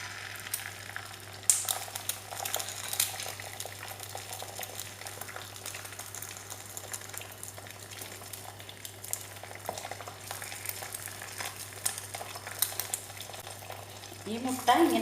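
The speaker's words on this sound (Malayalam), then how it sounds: "ഒരു മുട്ട പൊട്ടിച്ചിട്ട് തവ ചൂടാകുമ്പോൾ അതിലേക്ക് ഒഴിക്കണം" A beaten egg fries on a hot tawa in a little sunflower oil, giving a steady, fairly quiet sizzle with a low constant hum beneath it and a brief stir or scrape at the very end.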